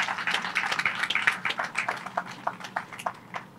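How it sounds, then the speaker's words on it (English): An audience at the Sunnydale community hub groundbreaking ceremony claps, a dense burst of applause that thins into scattered individual claps as it fades. "Let's give them a big round of applause"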